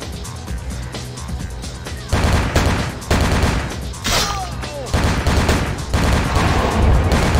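Gunshots fired at the player in a video game, a dense and steady barrage of loud, overlapping shots and impacts that keeps going throughout.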